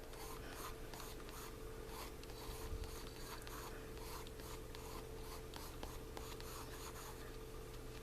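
Light green colored pencil scratching steadily on paper as a sphere is drawn, a close, continuous rubbing texture with rhythmic strokes and no talking.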